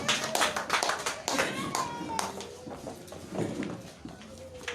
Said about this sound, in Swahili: Tuwapigie makofi wapendwa hao